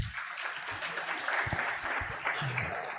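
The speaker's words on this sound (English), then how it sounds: "Another round of applause to our regulator" Conference audience applauding a regulator, a dense continuous clapping from a crowd in a hall, steady and moderately loud, with faint voices mixed in.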